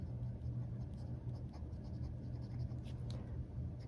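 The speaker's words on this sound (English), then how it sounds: "So just drawing out my grid with my ruler from Michael's" A fountain pen with an extra-fine nib ground to a needle point, loaded with wet ink, scratches faintly as it draws grid lines along a ruler, a soft continuous scraping over a steady background hum.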